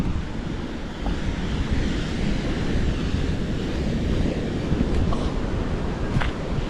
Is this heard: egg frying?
no